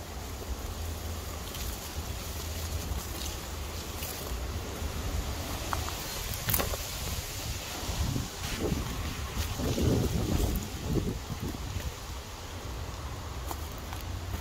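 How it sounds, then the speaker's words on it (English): Wind blowing outdoors in a garden, a steady, broad rushing roar with buffeting gusts against the microphone that swell briefly in the middle. "today it's windy, so quite a lot of them are falling off the tree"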